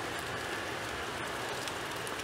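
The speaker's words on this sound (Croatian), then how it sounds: "Kiša pada." Steady rain falls outdoors around a secondary school in Delnice, a dense, even hiss of drops on surfaces that holds without pause or break throughout.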